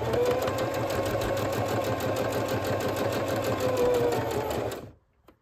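Sewing machine stitching a patchwork seam for a zipper pouch, a steady close whirring run of rapid stitches that stops abruptly near the end, with no talk.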